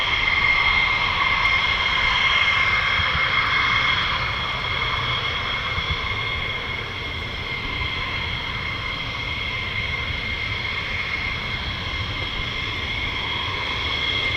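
USAF F-15E Strike Eagle fighter jet of the 48th Fighter Wing taking off at an RAF base: a continuous loud, broad engine roar with a sustained whine, steady for the whole stretch.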